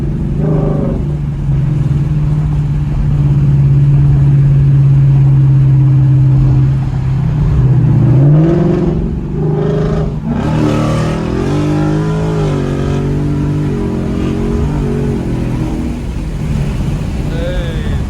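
A Ford Mustang GT with traction control off revs through traffic; a steady low engine drone holds, then climbs and shifts into rising, wavering pitch sweeps as it accelerates hard, with a Q50/G35 nearby.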